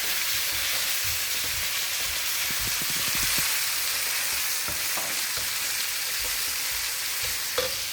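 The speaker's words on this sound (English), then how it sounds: "the meat is getting golden brown." Hot oil sizzles steadily as meat fries golden brown in a wok, a bright crackling hiss with occasional scraping stirs and small pops, close by and without talk.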